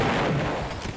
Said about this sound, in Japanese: なるほど、こうやって爆発するんだ。